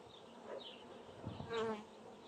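Honey bees buzz inside an opened hive during an inspection for swarming, a low steady hum that swells briefly midway, close and moderately loud with no talk.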